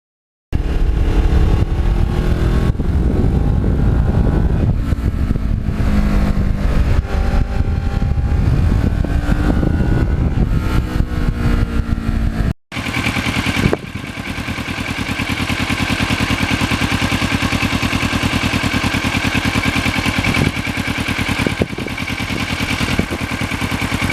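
A black Kawasaki Ninja motorcycle engine runs while riding northern New Jersey back roads, a loud, close, sustained drone that shifts pitch as it accelerates, then settles into a steadier cruising hum with wind noise.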